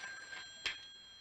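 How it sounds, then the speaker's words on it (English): A telephone rings faintly in a quiet room in a Barnaby Jones TV episode, a thin electronic trill with one brief louder burst, no talk over it. "That's our phone."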